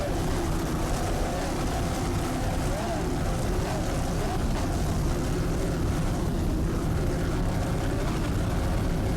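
Offshore racing powerboat engines roar steadily at a 2003 Grand Prix off Point Pleasant, New Jersey, as the Gecko Tequila boat runs in the Performance 3 class, with a commentator talking over the constant drone.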